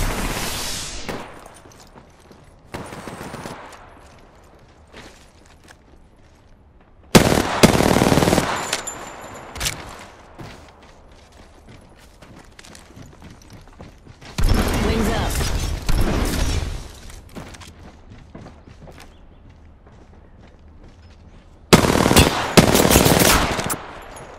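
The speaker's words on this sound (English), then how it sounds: "Opening fire." Automatic weapon fire in the Apex Legends video game comes in three loud, dense bursts of rapid shots separated by quieter stretches with fading echoes and game sounds.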